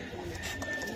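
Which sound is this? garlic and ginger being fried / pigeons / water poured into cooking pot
pigeons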